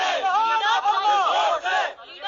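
A political crowd in Kashmir, backing Er Rasheed, loudly chants slogans in unison; raised, overlapping voices surge and dip in steady rhythmic waves close by for a couple of seconds.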